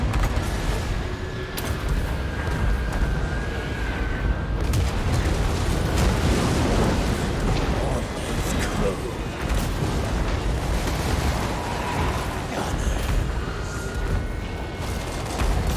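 The heavy Queen Bess cannon firing in a Total War battle, booming blasts amid loud battlefield rumble and clatter.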